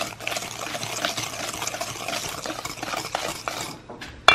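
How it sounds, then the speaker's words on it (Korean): Eggs are whisked one at a time into a butter-based muffin batter in a bowl, giving a close, continuous wet scraping and clinking of the whisk against the bowl that stops abruptly near the end. "이제 계란을 하나씩 풀어서 넣어보도록 할게요"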